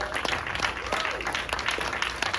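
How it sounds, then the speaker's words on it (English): An audience at a film festival closing night applauding, a steady wash of many hands clapping at moderate distance with scattered sharper claps. "Big round of applause."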